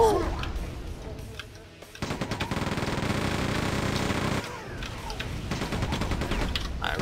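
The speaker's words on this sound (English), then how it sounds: "Chain gun." A chain gun in the Quake 2 remaster video game fires a loud continuous stream of rapid shots for a couple of seconds, with softer game noise before and after.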